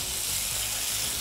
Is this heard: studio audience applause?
no